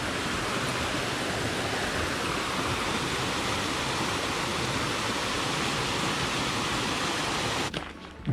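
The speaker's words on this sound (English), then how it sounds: "The sound of cascading water." Rushing water cascades continuously in a dense, steady roar beside a woodland trail on the West Highland Way, loud and close, before dropping away abruptly near the end.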